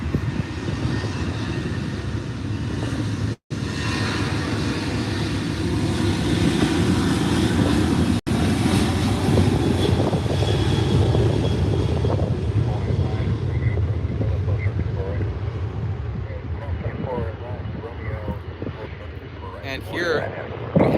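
A Southwest airliner departs from runway 24R at LAX with a long, loud rumbling jet roar that builds and holds, then slowly fades, while a person talks over it.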